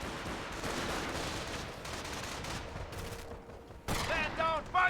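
Rapid bursts of .30 cal machine gun fire rattle in a Company of Heroes battle over a dense layer of distant gunfire, ending with a louder burst near the end.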